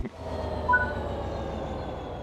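Train in the video game Train Sim World 4 coming to a stop, a low rumbling rolling drone with a faint brief squeal, steady and close, no talk.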